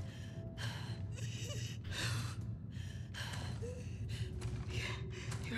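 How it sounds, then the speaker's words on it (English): A wounded character in The Last of Us Part 2 breathes in labored, ragged gasps, a steady rhythm of strained inhales and exhales close up over a low rumbling background. "Your breathing's worse."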